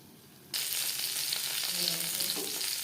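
Eggplant slices fry in a pan over high-to-medium gas flame, the sizzle bursting in abruptly after a quiet moment and then holding as a loud, steady crackling hiss, close by.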